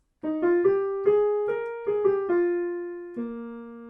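A short, clear melodic line of sustained piano notes struck in an even rhythm, ringing out alone and close, with the last note held: the opening melody of Scarlatti's song Le Violette.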